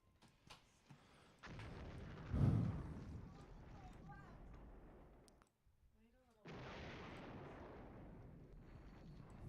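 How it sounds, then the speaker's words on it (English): Artillery fire in the wargame Flashpoint Campaigns Southern Storm: a heavy boom followed by rumbling battle noise, then a brief lull before the bombardment resumes, all at a steady moderate loudness. "if we can't push forward due to all that artillery fire"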